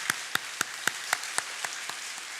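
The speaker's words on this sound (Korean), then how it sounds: "우리 수고하신 모든 분들을 위해서 한 번 더 우리 박수로 응원하도록 하겠습니다" A church congregation claps in a slow, evenly spaced rhythm, about nine distinct, crisp claps in succession with quiet room tone between them.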